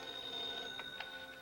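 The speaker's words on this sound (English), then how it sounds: "At 10:30 p.m., I received a phone call from Ray Nathan at CAA" A 1950s telephone rings with an incoming call late at night, a steady electric ring with bright tones holding through the moment, fairly faint and alone.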